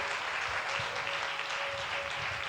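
A church congregation claps during a Sunday service, a steady, moderately loud patter of many hands filling the hall, with a faint held tone running underneath.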